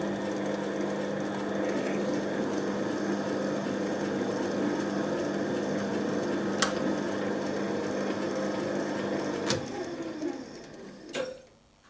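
A lathe cuts an internal thread in the blind hole of a steel spindle nut for a Quorn Mk3 tool grinder, giving a steady mechanical whir and hum with a few sharp clicks toward the end.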